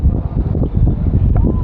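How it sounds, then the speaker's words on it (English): Wind gusts buffet the microphones of an Insta360 ONE X2 camera outdoors, a loud low rumbling roar that stays steady and close throughout the short moment. "It's a little windy, as you can tell."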